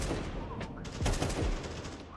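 Rapid bursts of gunfire in CS2, an AK among the weapons, cracking out in a quick volley of close, loud shots that overlap into a short fusillade.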